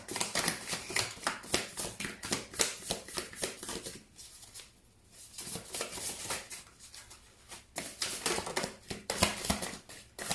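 Tarot cards are shuffled over and over, close and crisp, in quick riffling bursts with a brief softer pause partway through.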